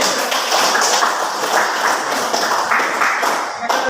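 Students in a classroom applaud group C with a dense, steady burst of clapping that fills the whole stretch before it cuts off at the end.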